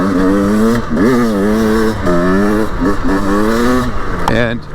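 A stock 2024 Beta 300 Race Edition dirt bike lugging in second gear on a cold 22°F ride, its two-stroke engine droning loud and close with rising and falling pitch as the throttle varies.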